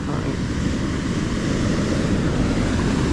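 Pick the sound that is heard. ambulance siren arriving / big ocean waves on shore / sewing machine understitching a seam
big ocean waves on shore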